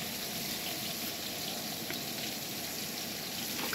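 Onions sizzling and frying in a pot over a wood-fired stove (chulha) while biryani is made, a steady close hiss with faint crackle throughout, no voices.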